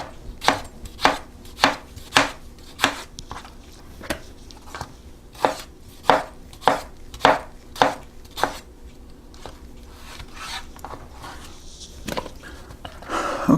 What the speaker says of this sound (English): and then you just slice your tomatoes